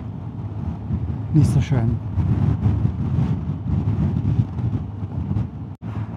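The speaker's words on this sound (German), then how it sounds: "Was ein Wind." Blustery wind roars across the microphone while riding a Vespa GTS scooter on a country road, a steady rumbling buffet under a man's speech.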